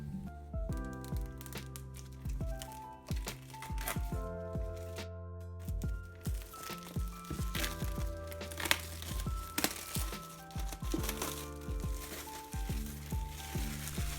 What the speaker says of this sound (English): So now we're just going to pull this pull tab.